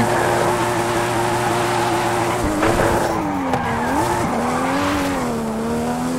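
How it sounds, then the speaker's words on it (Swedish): A Nissan Skyline R34 in the racing video game Forza 5 holds a steady loud engine drone with tires squealing, the pitch dipping and rising as it shifts and corners. "Och den där R34 låter mysigt."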